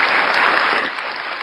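Dense, steady applause from an audience, loud and continuous without talk, slightly easing toward the end.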